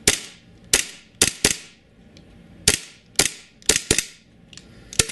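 A WE Knight Hawk 1911 gas blowback airsoft pistol fires about eleven sharp, loud, close shots. They come in irregular single and paired bursts, each with a snappy slide clack and a brief hiss of gas.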